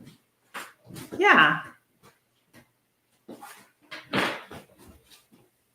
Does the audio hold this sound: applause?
no